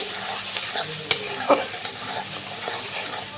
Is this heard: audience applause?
no